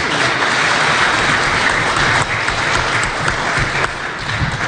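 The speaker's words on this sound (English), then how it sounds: "Please start by just giving them a round of applause for participating." Sustained audience applause for the panelists at a youth operators panel discussion, a dense, steady wash of many hands clapping throughout, loud and close, with no talk over it.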